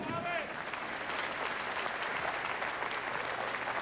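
A bowling crowd at a 1997 pro masters match bursts into sustained applause and cheering, a dense steady wash of clapping lasting throughout at moderate distance.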